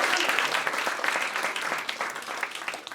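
A stand-up comedy crowd in Bucharest gives a round of applause, a dense, moderately loud wash of clapping that holds steady for a few seconds and tapers slightly at the end.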